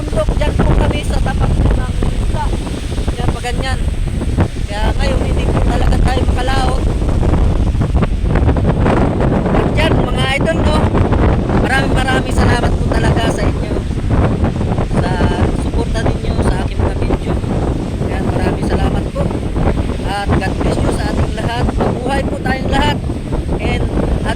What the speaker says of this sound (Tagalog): Malakas ng hangin, malakas ang alon.